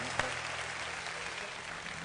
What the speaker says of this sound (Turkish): Bir alkış alabilir miyim